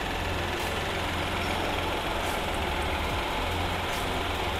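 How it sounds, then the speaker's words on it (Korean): A Hyundai Grandeur IG 3.0 engine idles in a steady, even low hum, close and constant with no change in pitch and no speech. "엔진 소리 일정하네요."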